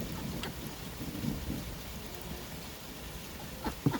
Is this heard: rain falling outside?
yes